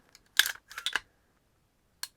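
A Taran Tactical 2011 Combat Master pistol's light, adjustable trigger gives a few crisp close mechanical clicks in quick succession, then one more sharp click after a short pause.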